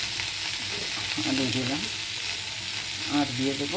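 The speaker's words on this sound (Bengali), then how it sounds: "ডাঁটাটা দিলাম, আলুটা দেব, দিয়ে ঢেকে রেখে আমি একটু ভাজবো" Vegetables, drumstick stalks and potato frying with cumin in a pan give a steady close sizzle with stirring, while a voice speaks briefly over it.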